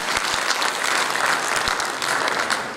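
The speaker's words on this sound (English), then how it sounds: "So, a big hand applause for them." A crowd claps steadily at a university memorial lecture, dense applause filling the whole stretch at a fairly loud, even level.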